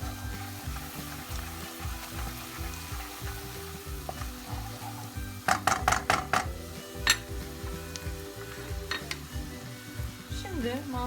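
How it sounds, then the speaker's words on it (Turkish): Mushroom pasta sauce sizzles steadily in a deep wok-style pan with a constant frying hiss, and a spoon scrapes and clinks against the metal in a cluster of sharp knocks midway while stirring continues. "Sürekli karıştırın ki etraftan yanmalar olmasın."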